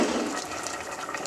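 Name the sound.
hot water poured onto chicken in curry pan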